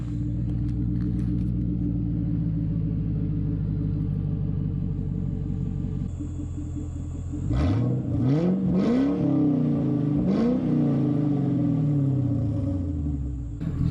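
Crown Victoria V8 with stock Y-pipe exhaust, warmed up, starting and settling into a steady, low, quiet rumble at idle, with a brief rising rev partway through, close and continuous with no talking.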